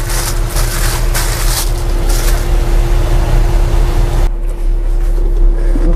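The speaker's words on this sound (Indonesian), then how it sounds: "sekarang kita coba muter-muter kali ya pakai mobilnya" Daihatsu Gran Max campervan driving, a steady loud engine and road drone with a constant hum inside the cabin, the tone shifting and dropping in brightness partway through.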